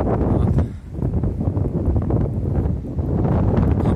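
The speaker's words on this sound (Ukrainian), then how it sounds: "Сильний вітер." Strong wind gusting across a microphone at a high hilltop viewpoint in a city park, loud, continuous low roaring and buffeting with no talk.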